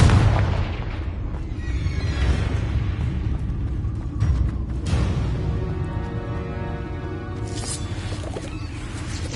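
In the Hogwarts Legacy video game, a Confringo fire spell explodes with deep rumbling booms and crackling bursts, loud and close amid ongoing combat noise, with a sharp blast near the middle.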